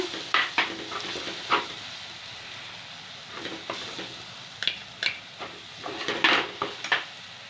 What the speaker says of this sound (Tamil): கொஞ்சோண்டு மிளகு பொடி சேர்த்துக்கோங்க சேர்த்து நல்லா வதக்கிடுங்க